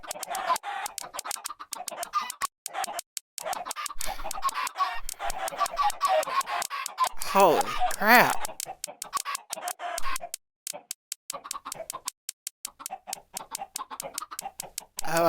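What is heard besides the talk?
many chickens clucking in video game Minecraft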